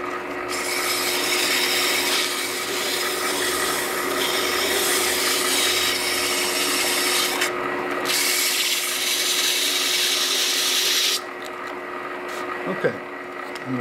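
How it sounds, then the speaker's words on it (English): A lathe-turned hammer handle for a brass hammer is sanded with sandpaper while it spins, giving a steady, loud broadband rubbing hiss over a constant machine hum that stops abruptly near the end. "I probably should touch that with some sandpaper first."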